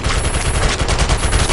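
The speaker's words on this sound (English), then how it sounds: "I'm taking fire." Rapid automatic gunfire in the PS4 shooter Defiance 2050, a dense unbroken volley of loud shots rattling steadily as the player comes under fire.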